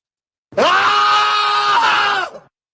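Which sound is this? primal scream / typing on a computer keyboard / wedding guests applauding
primal scream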